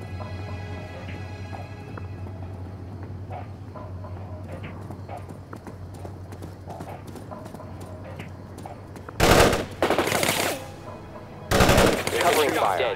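Soldiers fire weapons in the video game World in Conflict: a steady rattle of small-arms shots over a low hum, then two loud broadband bursts of gunfire near the end.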